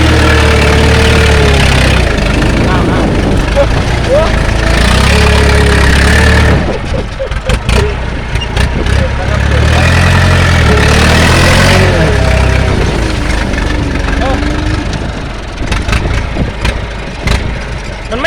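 A tractor engine runs loud and close while plowing a field, with a steady heavy drone that dips, surges and revs, and rattling clatter over uneven ground.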